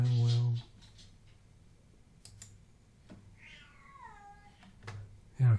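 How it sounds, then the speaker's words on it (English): A cat meows just outside a door, a clear, drawn-out call in the middle set between loud low thumps at the start and end, with faint clicks and shuffling around it. "now the kitty is right outside my door."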